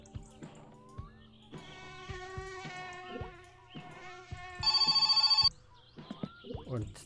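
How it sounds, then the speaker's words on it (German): A telephone rings in a burst of rapid electronic trills partway through, loud and close, amid sparse chiming tones and background activity. "Ah, schon wieder das blöde Telefon."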